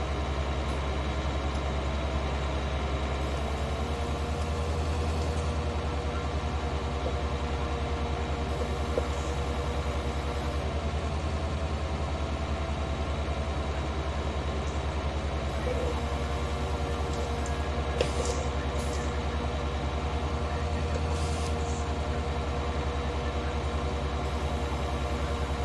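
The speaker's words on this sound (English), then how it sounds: "This is, for an old mower, working very well." An old tractor mower engine runs while cutting grass, a steady low rumbling drone that stays constant and fairly loud for the whole stretch, with only faint higher clicks and rattles over it.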